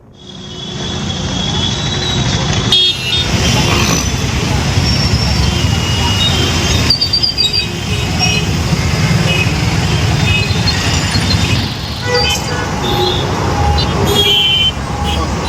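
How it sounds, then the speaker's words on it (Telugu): Dense road traffic in a jam on the way to Chilkur Balaji temple, a continuous loud rumble of idling and creeping vehicles with occasional horn-like tones, steady throughout with voices mixed in. "సో మొత్తం ట్రాఫిక్లో ఇరుక్కున్నాం ఇప్పుడు."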